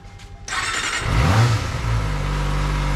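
A Kawasaki ZX-25R four-cylinder motorcycle engine fires up and revs close by, a sharp rising wail that settles into a steady, high-pitched idle hum.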